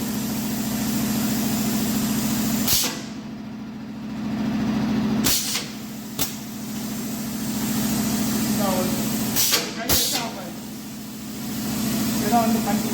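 A pneumatic punching machine running on compressed air, punching 9 mm holes, gives sharp, loud bursts of air release every few seconds over a steady mechanical hum. A person talks intermittently nearby.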